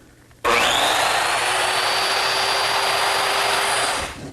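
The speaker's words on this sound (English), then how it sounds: "The first step is along this line with the saw set at a depth of 3/4 of an inch." A circular saw set to a 3/4-inch depth cuts along a line on a redwood arch to form a tenon, a loud steady high-pitched whine running continuously for about four seconds after a sharp start, then spinning down.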